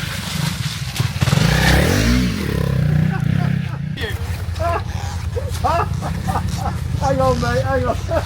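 A Honda Africa Twin adventure motorcycle on Dunlop Trailmax Raid tires revs and struggles through deep mud on a wet off-road trail, the engine surging and dropping near by while riders shout and talk over it.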